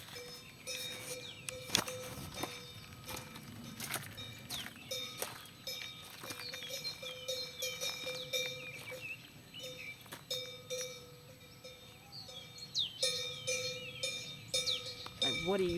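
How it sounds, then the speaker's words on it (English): Cowbells clank and jingle irregularly among cows on a farm, fairly faint and spread across the scene, with occasional sharper knocks and soft background activity. "Let me show you the cows."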